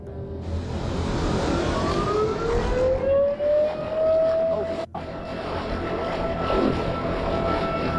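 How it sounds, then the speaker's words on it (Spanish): A loud, deafening siren wails outdoors, rising in pitch and holding a long sustained tone with a brief break midway, over a low background rumble. "su jornada de pesca se vio interrumpida por un ruido ensordecedor, una sirena."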